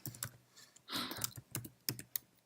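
Keys clacking on a computer keyboard while a project name is entered, a close, irregular run of sharp clicks with a denser burst in the middle and no voices.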